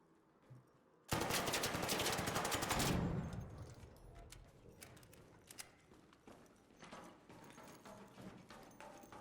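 Machine gun turret fire in the video game ARC Raiders: a loud, rapid, continuous burst lasting about two seconds, then quieter scattered clatter and rattling that trails off.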